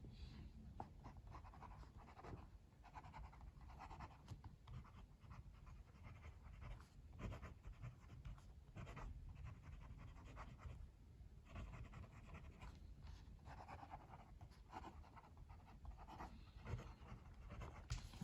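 A Lamy Dialog CC fountain pen writes on paper: a faint, steady scratching of the nib that keeps going with small irregular strokes throughout.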